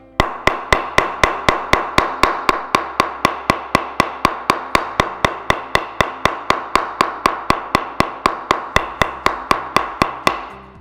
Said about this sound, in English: be careful to keep the mallet square to the blade like so.